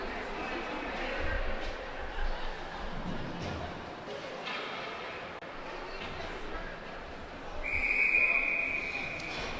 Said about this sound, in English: we'll get a whistle with that puck stopped where it is